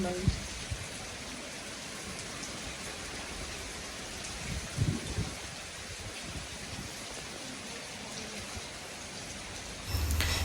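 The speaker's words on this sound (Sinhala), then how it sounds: "ඔන්න ඉතින් වැස්සකුත් වැස්සා." Steady rain falls in a soft, continuous hiss during a family trip, fairly faint and even throughout, with a few brief knocks and a louder burst at the end.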